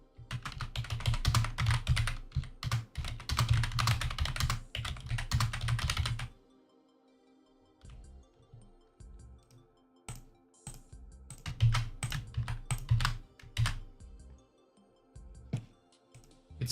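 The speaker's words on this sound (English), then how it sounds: "It's time for the keyboard ASMR right now." Someone types on a computer keyboard in dense, rapid clicking bursts, pauses briefly, then resumes with scattered keystrokes and another flurry. The keys are close and clear, with no speech.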